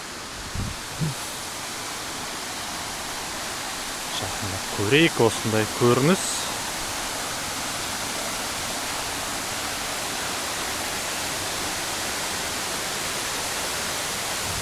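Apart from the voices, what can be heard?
waterfall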